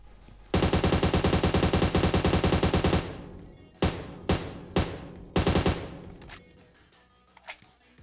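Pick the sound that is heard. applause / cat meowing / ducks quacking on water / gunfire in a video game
gunfire in a video game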